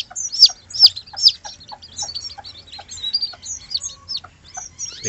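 Newly hatched chicks peep close by, shrill high cheeps in short bursts over soft low clucking from a hen.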